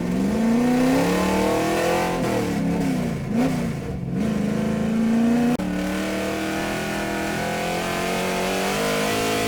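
A street stock race car engine drones steadily at high revs down the straightaway of a simulated speedway, loud and continuous, with a brief lift and a gear change partway through.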